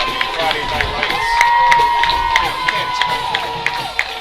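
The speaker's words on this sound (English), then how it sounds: "there it is, there's the crowd" A high school football crowd at a Woodbridge Blue Raiders vs Milford game roars as a steady wash of cheering, with rhythmic chanting or stomping pulses above it and a steady tone running through.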